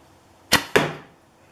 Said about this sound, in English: You can hear the fletching rip through the air.